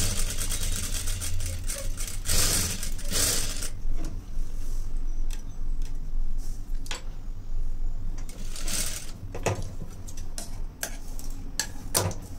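Sewing machine stitching a plain blouse at a tailoring class, a steady rapid ticking run that continues throughout with a few brief louder clatters, close and fairly loud with no talk.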